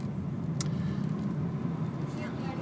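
A car moving slowly through a busy area toward a narrow gap, its engine a steady low hum heard from inside the cabin, with a brief sharp click early on.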